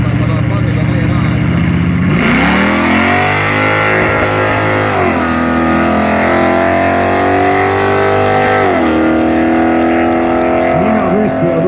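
A Dodge D150 stepside pickup with a 440 cubic inch 7.2 L RB V8 roars loudly through a burnout, its engine revving up, holding and climbing again in a dense, continuous blare, with a voice talking over it.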